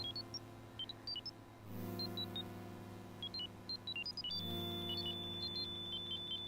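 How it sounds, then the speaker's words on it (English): Electronic beeping in the 1995 PC game Space Quest 6, bursts of short high-pitched tonal blips in irregular sequences over a sustained low droning hum that swells twice, no talk. "Beep, beep, beep, beep, beep, beep,"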